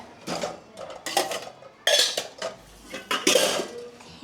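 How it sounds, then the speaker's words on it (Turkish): A metal tea pot clanks and rattles in short bursts as it is handled and shifted, close up with irregular knocks and scrapes. "İlk önce bizim tenceremizi alacağız."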